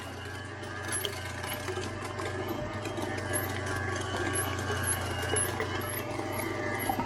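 A Cabela's Pro Series DC half-horsepower meat grinder runs a coarse grind of meat, giving a steady, close mechanical hum and motor whine that holds evenly throughout with light ticking on top.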